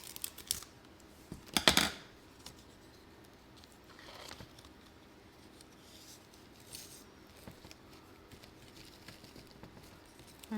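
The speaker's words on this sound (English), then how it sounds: "So here's our Velcro. Cut a piece off." Scissors snip through a piece of Velcro tape in one short, sharp cut, followed by faint handling and rustling noises close by.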